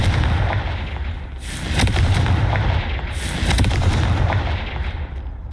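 A Confringo fire-blast spell goes off in the video game Hogwarts Legacy, with two loud booming bursts over a rumbling, crackling background and no voices.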